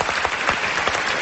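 A studio audience on an Italian festival after-show applauds a singer, a short burst of dense, close clapping with no talk over it.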